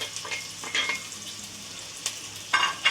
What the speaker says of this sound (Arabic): انا غادي ندير هاد العناصر كلها تشحر.